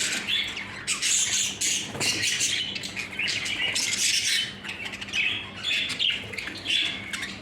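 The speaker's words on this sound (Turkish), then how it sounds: "Tepeli kuşlarımız tabii ki mevcut arkada şöyle gördüğünüz gibi." Crested show jumbo budgerigars, yellow, white and pied blue, chatter and squawk in a nearby aviary, a busy overlapping stream of sharp chirps and warbles with no pauses.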